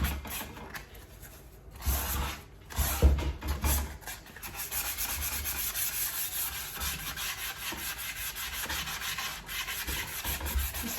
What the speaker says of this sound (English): I'm just basically sanding where those numbers were.